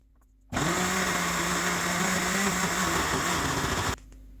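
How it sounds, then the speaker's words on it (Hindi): An electric blender whirs a peri peri marinade of garlic cloves, paprika, salt, lemon juice, vinegar and oil. A loud, steady motor roar starts abruptly and holds for about three and a half seconds before cutting off. "और अब इस सबको ब्लेंड करेंगे।"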